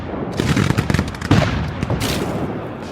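Rifle fire in a Civil War battle as Union troops charge Confederate lines, a loud, dense crackle of overlapping shots with one heavier burst in the middle.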